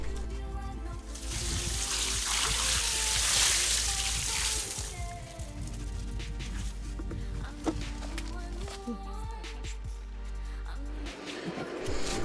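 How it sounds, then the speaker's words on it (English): Dirty rinse water from an old compost bucket splashes and pours onto a compost heap outdoors, a sustained watery rush that tapers off into trickles, with a low background rumble and occasional handling noises. "take that dirty water and just put it right back on the compost heap"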